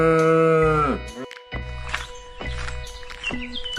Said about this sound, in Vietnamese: Con trâu.